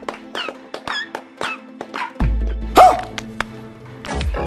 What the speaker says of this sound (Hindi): उसका कुत्ता भी मुंह से आवाजें निकालते हुए कमरिया हिला हिला कर मालिक की ताल में ताल मिलाने लगा